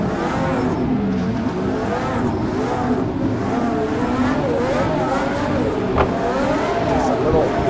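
Pagani F1 GTR race car on a snowy, wet track with puddles and hairpins, engine droning and revving steadily throughout, loud and close, with a brief sharp spike near the end; voices talk over it.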